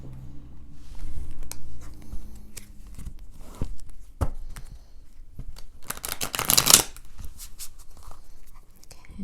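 Witch's Tarot cards shuffled by hand in a quiet indoor setting, a run of soft riffling slaps and papery bursts, close and fairly loud, peaking in a brief dense flurry partway through, with no talking.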